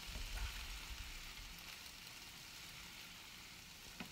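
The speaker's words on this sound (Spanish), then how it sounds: "Aquí tengo los camarones cocinando por un par de minutos." Shrimp cooking in a hot pan, stirred constantly, give a steady close sizzle and crackle that runs evenly throughout with no talk.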